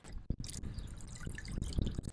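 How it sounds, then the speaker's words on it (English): Water trickles and drips steadily from an AISITIN 3.5W solar fountain pump, with small splashes and pours close by and no talking. "if you like the sound of water, this is a nice way to add it"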